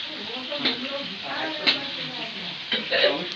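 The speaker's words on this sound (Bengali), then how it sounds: "এই যে মাছ ভাজা চলছে" Fish fries in a pan with a steady sizzle, broken by a few brief scrapes and clinks as it is stirred or turned, close by.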